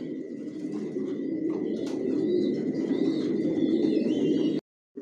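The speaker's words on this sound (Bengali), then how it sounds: "টপ কোয়ালিটির কবুতর পালি" Racing pigeons coo in a loft, a low throaty murmur from several birds close by, with brief chirps and a flutter on top before the sound abruptly cuts out near the end.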